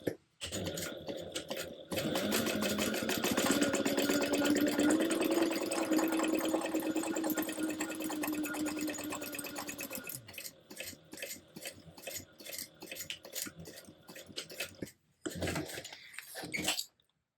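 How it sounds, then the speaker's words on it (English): A sewing machine runs a continuous quarter-inch seam for about eight seconds, sewing fabric for a dew drop pattern, steady and close. Quieter handling noises follow once it stops. "go ahead and stitch that one down at a 1/4 inch again"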